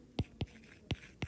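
Pen strokes write out numbers in four short, distinct scratches at an uneven pace, quiet and close, with no talking.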